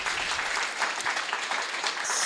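An audience at an evening storytelling event gives a round of applause, a dense, steady patter of many hands clapping for a couple of seconds at moderate level.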